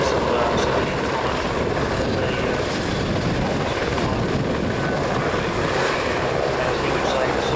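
Helicopters fly at the Australian International Air Show 2009, a loud, steady rotor drone and engine whine filling the whole stretch without pause, close and continuous, with a commentator's voice faintly underneath.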